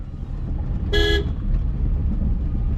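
A Tata Nano small car drives with a low, steady engine rumble and road noise, and a brief horn toot sounds near the middle.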